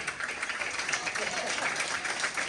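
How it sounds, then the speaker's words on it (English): An audience at a high school sports awards event applauds the coaches with a dense, steady patter of clapping from many hands that fills the room. "give them all a round of applause for all of our coaches"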